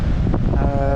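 Blustery wind at a harbour buffeting the microphone, a dense low rumbling roar filling the whole brief moment.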